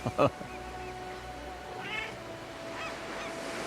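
A cat in the video game Diablo IV gives a short, close meow at the start, then quiet game ambience follows while a voice speaks softly.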